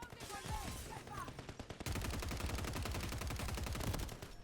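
Rapid automatic gunfire and explosions fill a video game firefight, a dense, continuous rattle of shots that thickens into nonstop bursts partway through, loud and close with faint game voices in the first moments.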